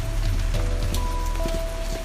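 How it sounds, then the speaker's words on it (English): Steady rain falls outdoors in cold weather, a constant dense patter of drops on surfaces at moderate volume, with no voices. "It's still raining."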